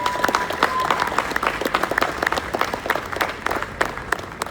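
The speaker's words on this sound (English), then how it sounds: "let's give applause for that" Audience applause at a small-town Veterans Day parade event, steady dense clapping from a moderate crowd throughout, with a faint tone early on and no clear talk over it.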